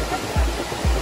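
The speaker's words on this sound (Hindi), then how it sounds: "वो कैसे हमारे ऊपर पानी गिर रहा है इस टाइम" Water falls from above beside a mountain road in Nepal, a loud continuous rushing roar with a couple of brief low thumps, near and enveloping.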